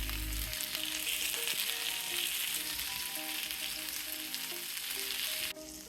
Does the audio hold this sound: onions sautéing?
yes